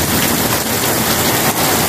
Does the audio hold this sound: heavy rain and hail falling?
yes